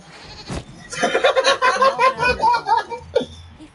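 A goat in the video game Dragon Age: Inquisition lets out a long, wavering bleat lasting a couple of seconds, close and fairly loud, framed by a short thump before and a brief sound after.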